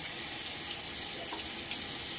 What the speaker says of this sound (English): I'm going to rinse